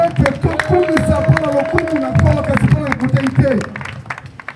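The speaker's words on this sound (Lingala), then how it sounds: "Acclame très fort pour la parole." Crowd at an evangelism campaign in Bolobo cheering and clapping, a dense wash of applause and voices with one sustained shout riding over it, steady and fairly loud throughout.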